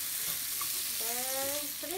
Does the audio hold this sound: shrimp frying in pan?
yes